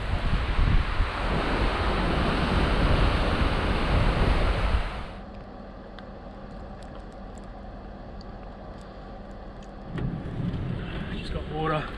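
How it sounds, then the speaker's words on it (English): A strong blizzard wind roars loudly and steadily close to the microphone, then drops to a quieter rushing background before gusting up again at the end. "But the wind is really going through here."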